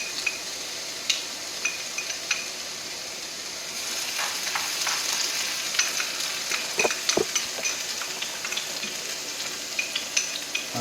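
Diced garlic, ginger and sweet pepper sizzle in a pan with a soft, steady frying hiss, broken by occasional stirring clicks and scrapes, close and fairly quiet with no voices.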